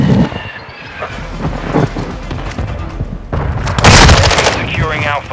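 Call of Duty: Modern Warfare II Domination match on the Lighthouse map, with loud bursts of automatic gunfire and booming shots crackling in rapid volleys, voices faintly mixed in.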